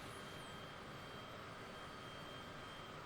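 Steady, loud airplane engine drone from Microsoft Flight Simulator as the aircraft descends toward a runway to land, a constant broadband hum with a faint high whine, no voices.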